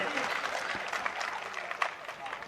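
Audience applause at an Urdu mushaira poetry gathering in Pune, a dense, steady clatter of many hands that fills the whole stretch, with a little crowd noise mixed in.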